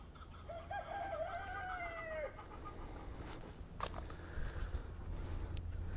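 A rooster crows once, a long rising-falling call in the foreground, while chickens cluck softly around it over a low steady outdoor rumble.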